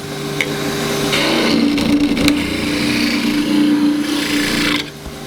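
A steady mechanical whine of a power drill boring a depth hole into a wooden bowl blank for woodturning, running continuously for several seconds, close by, then cutting off near the end.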